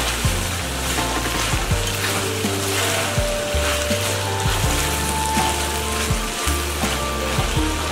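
Pork ribs in sauce sizzle and fry in a wok while being stirred, braised Guangxi-style with perilla; a loud, steady crackling hiss runs throughout with intermittent scraping and clacking from the stirring.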